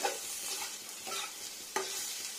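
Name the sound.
stirring bitter gourd frying in mustard oil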